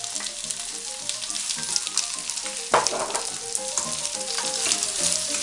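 Chopped garlic and bay leaf fry in oil in a pan for a traditional rabbit al ajillo, giving a steady, close crackling sizzle with occasional stirring scrapes and a louder burst midway, with no talking.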